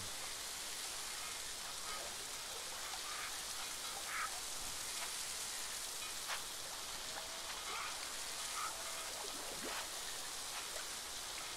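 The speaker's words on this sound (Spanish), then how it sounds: "acá siempre llueve, así, siempre oscuro y lluvia" Steady rain falls in the dark, wet world of the video game New World, a dense, even hiss of drops lasting throughout with a few faint patters and ticks, no talk.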